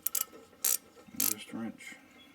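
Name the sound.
ratchet wrench turning caliper bracket bolts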